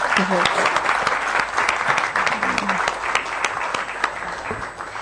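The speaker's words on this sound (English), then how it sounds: "Come on, guys, you can give them a round of applause" Sustained applause from an audience at a product presentation event, dense and steady for several seconds, with some voices in the crowd beneath the clapping.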